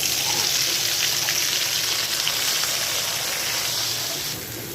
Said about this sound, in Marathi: आपण याच तेलामध्ये आपली भाजी करूया. यामध्ये थोडासा हिंग टाकते, थोडीशी मोहरी घालते